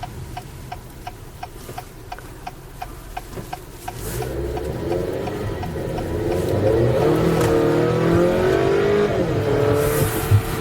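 Rhythmic ticking at first, then an Acura car engine, not a V6, rises into a strong accelerating roar that builds in pitch and loudness, heard close up.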